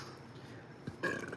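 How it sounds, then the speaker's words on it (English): A single throaty burp after eating a hot pepper pizza rises briefly out of quiet room noise, close and short, with no talk during it. "excuse me, pepper burp"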